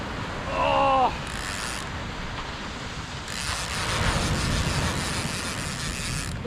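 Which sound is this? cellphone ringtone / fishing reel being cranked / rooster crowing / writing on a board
fishing reel being cranked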